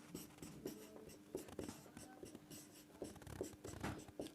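Pen scratching across paper in short bursts and strokes, close and fairly quiet, with no speech over it, as values for current and potential difference are noted down for an Ohm's law graph.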